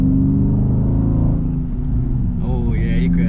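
Dodge Scat Pack with factory exhaust, engine droning loudly and continuously with a rise in pitch partway through like a rev, heard from close by, with talking over it.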